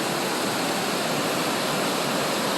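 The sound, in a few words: waterfall at Horse Lake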